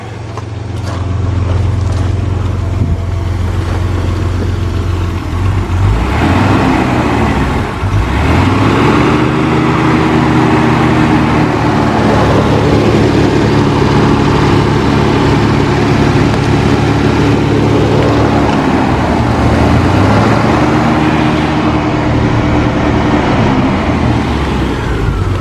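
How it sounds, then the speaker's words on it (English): A 1970s classic car engine idles with a steady low rumble, then revs up twice, the pitch climbing and falling back to idle each time, close and loud. "Let's just have a quick rev of it."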